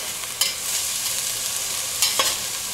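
Meat and onion sauté in a hot pan with a constant close sizzle, and two sharper scrapes of a stirring utensil stand out above it.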